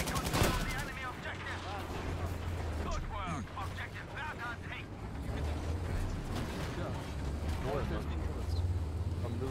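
Video game gunfire, bursts of rapid automatic shots and clicking weapon mechanisms mixed with speech throughout, close and moderately loud, with a low engine-like drone underneath.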